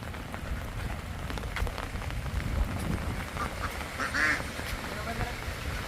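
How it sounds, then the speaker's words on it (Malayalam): Steady rain patters on surfaces throughout, with distant quacking ducks and faint background voices mixed into the wet hiss. "ഇത് നമ്മൾ ഇറങ്ങി പുറത്തോട്ട് വന്നപ്പോൾ നല്ല മഴയായിരുന്നു"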